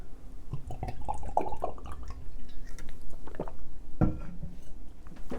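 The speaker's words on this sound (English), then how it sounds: "Let me get a chug of water." A person takes a chug of water, with close, wet gulping and sloshing swallows in an irregular run and one heavier gulp near the end, and no talking.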